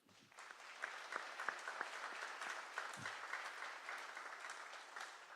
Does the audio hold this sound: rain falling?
no